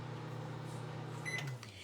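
A running microwave oven hums steadily up close, then gives a short electronic beep as the hum winds down and stops, with no speech.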